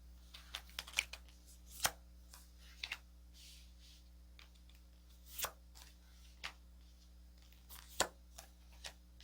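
Tarot cards being drawn and handled for a reading, scattered crisp card slaps and shuffles at irregular intervals over a faint steady background hum, quiet and close.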